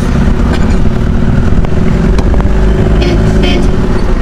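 Heavy road traffic in the Philippines, a loud constant rumble of engines close by with brief car horn toots sounding over the noise.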